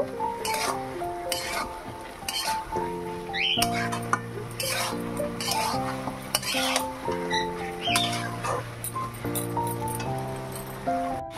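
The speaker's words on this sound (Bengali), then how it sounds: "দিয়ে ভালো করে নাড়াচাড়া করে নেব।" A spoon stirs turmeric and spices through a pan of chicken curry, with repeated scraping and clinking strokes against the pan over a steady tonal hum.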